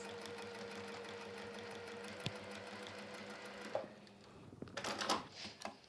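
A sewing machine stitching a modern étui, a steady close hum with even needle chatter for about four seconds, then slowing and stopping into a few scattered handling clicks and rustles.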